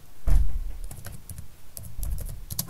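Computer keyboard typing in PowerPoint: irregular clusters of light key taps with a few heavier thunks, close and fairly soft, with no talking.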